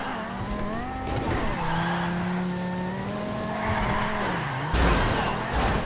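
A car's wheels spin on a slick surface without traction, a long continuous whine of rising and falling tyre squeal over steady engine drone, close and loud.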